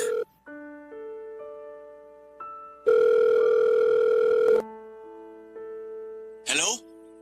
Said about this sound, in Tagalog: Ayun, nagring.